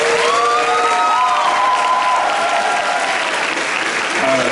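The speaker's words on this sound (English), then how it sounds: "Let's give them one more big round of applause." An audience at a signing day event claps loudly and steadily, with a few cheers and whoops rising above the dense applause.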